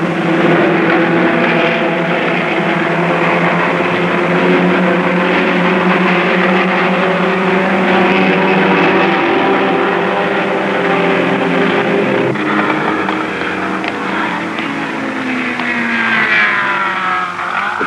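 Lotus racing car engine lapping a circuit at record pace, a loud sustained engine drone with steady harmonic whine that shifts pitch partway through, continuous with no pauses.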